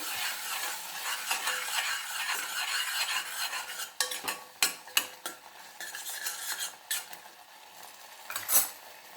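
A spoon stirs jaggery into cooked mango pachadi in a pot, with a soft bubbling sizzle at first. Sharp, close metallic scrapes and clinks follow in the second half.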